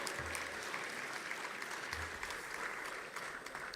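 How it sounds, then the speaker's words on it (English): An audience at an international public health conference in Africa claps steadily, a soft, distant wash of many hands sustained for several seconds with a faint low rumble underneath. "Let's clap for Morocco."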